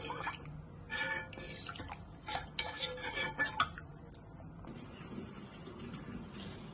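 A spoon clatters and scrapes in a metal pot while cornflour soup is stirred quickly, bursts of clinking and scraping in the first half, then a quieter steady hiss.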